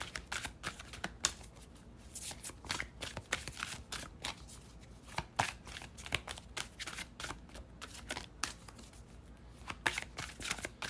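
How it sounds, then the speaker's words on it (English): A deck of tarot cards is shuffled by hand in quick, dense riffles and slides, close and quiet, with no talking. "Mass shuffle."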